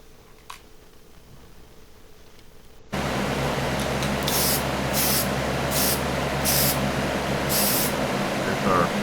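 Spray gun laying a blue tack coat of paint on a drag car, a loud steady hiss that starts abruptly and keeps going, with rhythmic brighter pulses of spray over a low hum.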